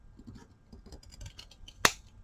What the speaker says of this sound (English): And then take your scissors, and I'm just going to try and straighten it out here.